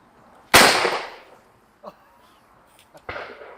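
Shotgun fired during clay pigeon shooting: a sharp, loud blast that decays over about a second, a faint thud after it, then a second, weaker report, set against quiet outdoor air.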